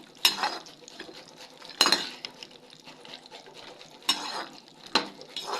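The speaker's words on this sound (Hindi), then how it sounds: "तो ब्राउन होने तक इसको घी में भुनेंगे जब तक ये पूरी तरह ब्राउन नहीं हो जाए" Cashews roast in ghee in a pan for a nutritious laddu while a spoon stirs them, giving scraping and clinking strikes of metal on the pan over a soft, low sizzle.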